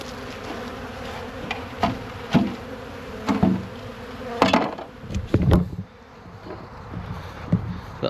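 Honey bees swarming around fondant and syrup feeders taken off hives, a dense close buzzing throughout, with occasional knocks and thuds of handling, no speech.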